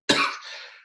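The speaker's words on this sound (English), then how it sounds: "got that cough that's going around" A single sharp cough from someone fighting a circulating bug, close and loud, with a rough, breathy tail that fades over under a second, with no talking.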